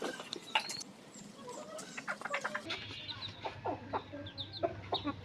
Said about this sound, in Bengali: আমি মোরগটা ধরি।